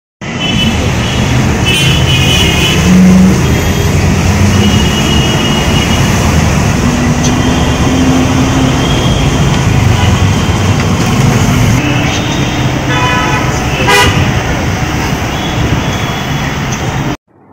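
Busy Kolkata street traffic rolls past in a steady, dense roar of engines and road noise, with occasional horn-like tones rising above it and no talk.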